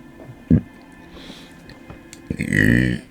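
A person burps repeatedly, a short sharp belch followed by a longer, louder drawn-out one, close up and alone with no talk, while suffering from gassiness and possible acid reflux.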